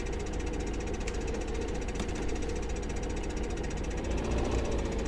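A tractor engine in Farming Simulator 2015, on the Melbury Estate farm, runs with a continuous knocking, throbbing chug, close and steady with no pauses.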